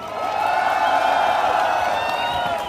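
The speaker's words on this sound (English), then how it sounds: "Give a cheer for the New Zealand Nurses Organisation" Crowd at an outdoor immigration march in Auckland cheering and applauding, a dense continuous roar of voices and clapping that holds steady and loud throughout.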